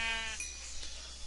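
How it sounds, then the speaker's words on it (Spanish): A Minecraft sheep gives a single short, wavering bleat at the start, clear and close, then fades into faint background game noise. "Ya, hay bastantes ovejas."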